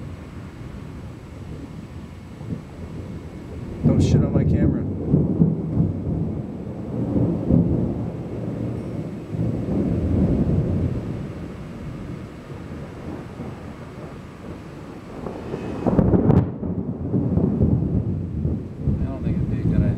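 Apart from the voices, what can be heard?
thunder rumbling during a thunderstorm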